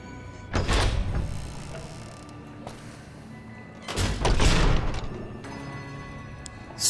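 A sliding door in the video game Fallout: New Vegas opens with a loud whooshing, thudding burst, then a second similar burst a few seconds later, each standing out clearly over a quiet background hum.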